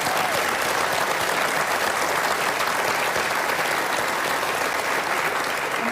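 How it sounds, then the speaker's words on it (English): An audience at a political debate applauds loudly and continuously, a thick wash of clapping that holds steady throughout. "People were applauding."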